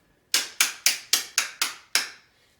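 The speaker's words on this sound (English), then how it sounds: "This is the sound of the cold clappers." Seven sharp, hollow clacks from wooden hand clappers in a quick, even rhythm, bright and close, each snapping off cleanly with silence before and after.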